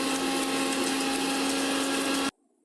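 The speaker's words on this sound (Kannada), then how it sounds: "ಗಸಗಸೆ ಇದಿಷ್ಟು ಹಾಕ್ಕೊಂಡು ಗ್ರೈಂಡ್ ಮಾಡ್ಕೊಳ್ಳೋಣ." A mixer grinder whirs steadily as it grinds poppy seeds for chicken biryani, a loud continuous motor whine that runs for about two seconds and then cuts off abruptly.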